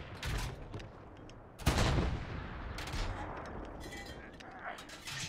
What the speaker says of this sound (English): Doing a creeping barrage from left to right.